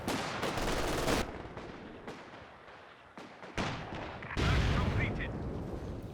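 Repeated booming impacts and gunfire from mortar and battle action in Company of Heroes 2 on the La Gleize map, a steady barrage of heavy thuds and bursts, louder near the end.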